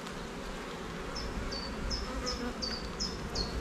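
Honeybees hum in a soft, steady drone at an open beehive during an inspection, with a few sharper high buzzes from bees passing close, fairly quiet and without talk.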